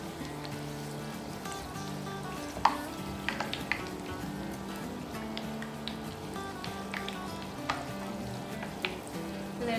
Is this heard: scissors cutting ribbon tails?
no